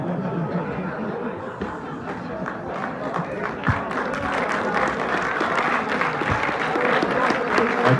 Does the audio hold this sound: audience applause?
yes